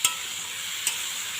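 Curry being sautéed in a pan, a soft continuous sizzle with two brief sharp clinks of a spatula against the pan, quiet and close.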